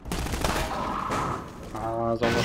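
Bursts of rapid gunfire crackle through a busy soundscape in the video game Half-Life 2: Episode One, with a steady tonal hum rising near the end.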